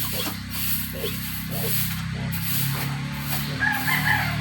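Chickens clucking with a rooster crowing, set against steady background noise and a low hum.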